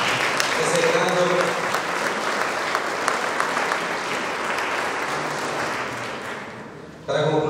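An audience at a World Food Day event applauds an achievement with sustained, full clapping that continues evenly and eases slightly before cutting off at the end.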